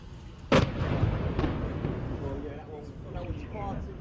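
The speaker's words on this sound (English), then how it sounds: "Smoke rises from the almost daily salvos of Grad missiles and shells that hit the port area." A single sharp boom from incoming Grad rocket and shell fire striking a port area, followed by rumbling, while someone talks over it throughout.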